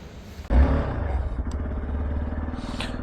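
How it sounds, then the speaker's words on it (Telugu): A motorbike fires up suddenly and settles into a steady, close engine rumble as the ride gets underway on a dusty, cold hill road, with faint clatter along the way. "ఇంకా బైక్లో స్టార్ట్ అయిపోదాం."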